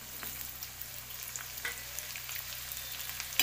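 Chopped onion dropped into hot oil with bloomed cumin seeds, a soft continuous sizzle and crackle with light stirring ticks, close and fairly quiet.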